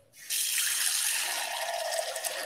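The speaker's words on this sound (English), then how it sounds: "about an inch of water in the base there" Tap water runs steadily into a pan for a double boiler, a loud continuous splashing rush that starts abruptly and carries on alone without any talk.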